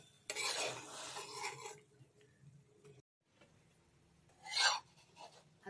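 A paneer paratha is turned on a pan, heard as quiet scraping and rubbing of a spatula in short bursts, with a brief silence midway and a sharper scrape near the end.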